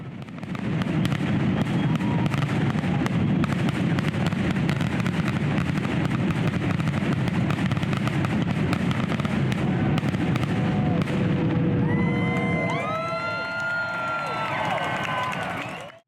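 Fireworks show at Lake Orion: a dense, continuous barrage of loud booms and crackling bursts, with whistling rising streaks and fizzing shells appearing toward the end, all heard from a crowd-filled outdoor setting.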